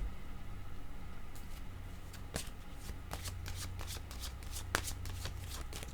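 A deck of cards is shuffled close by in quiet surroundings, giving a series of soft riffling flutters and sharp snaps at an irregular rhythm.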